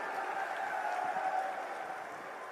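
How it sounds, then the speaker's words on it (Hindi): An audience at a government cheque-distribution event in Etawah claps in a steady, even wash of applause with no speech over it. "जोरदार तालियां आपके लिए।"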